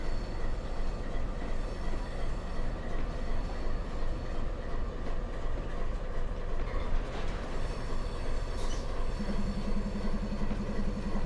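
A rebuilt AC44 locomotive running in Trainz, a steady low rumbling drone with rail noise that holds evenly throughout, with a faint higher tone joining near the end.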